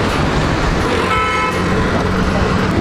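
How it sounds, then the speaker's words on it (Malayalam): A tourist bus pulls up amid road traffic, its horn tooting over a steady, loud engine and street noise. "ഇപ്പം അതെ, നമ്മുടെ വണ്ടി എത്തിയിട്ടുണ്ട്."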